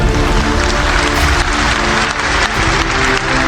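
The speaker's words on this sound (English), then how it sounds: "MashaAllah, you're clapping." A large lecture audience bursts into loud, dense applause, a continuous roar of many hands clapping at once that stays strong for several seconds with a slight dip near the end.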